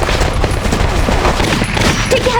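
Gunfire from the Valkyria Chronicles video game: loud, dense bursts of rapid shots and booms filling the whole clip, with no talk over them.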